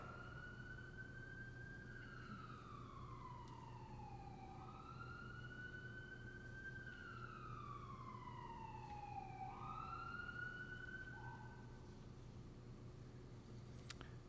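A distant ambulance siren wails in slow rising and falling sweeps outside, fairly faint over a steady low hum.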